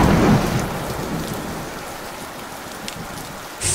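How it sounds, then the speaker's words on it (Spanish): Steady rain falls in a park in San José de Chiquitos on an early morning, a soft, even hiss of drops close by with no voices. "Acaba de llover acá en el parque, caía, como podemos ver."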